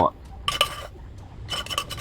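Pounded rice mixture being scraped out and dropped into a cooking pot, with a few short metallic scrapes and clinks of utensil against pot in two brief bursts, close and fairly quiet.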